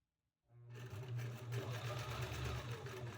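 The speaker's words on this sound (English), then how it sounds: "Just go nice and slow. No fast, angry sewing here." Sewing machine stitching a fabric scrunchie, starting from silence and then running in a steady, close, continuous mechanical whir with a fast rhythmic chatter, no talking over it.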